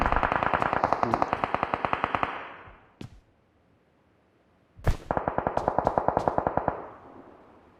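Automatic gunfire in a battle royale video game: two long, loud, rapid bursts with single sharp shots between them, and no voices.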